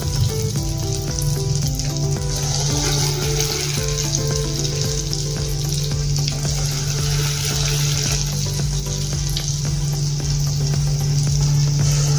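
Spinach pakora batter frying in hot oil makes a loud, dense, continuous sizzle with a steady bubbling hiss that holds without letup, close up and with no talk.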